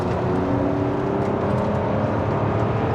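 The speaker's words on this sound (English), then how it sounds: "let's put it in sport and let's give it a little" A modified BMW with a V12 engine accelerates in sport mode, a steady, smooth low engine drone and whir heard from inside the car, continuous and fairly loud.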